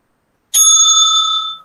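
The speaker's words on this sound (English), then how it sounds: "The timekeeper will ring the bell twice at the end of the seventh minute" A debate timekeeper's bell gives a single loud, bright ring that sustains clearly and then fades, with nothing else heard.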